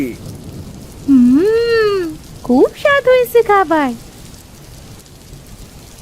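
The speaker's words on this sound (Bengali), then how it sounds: "বাইরে তো ঝড় বৃষ্টি কমলো না" Steady heavy rain hisses throughout while a person speaks in a lively, sing-song voice over it.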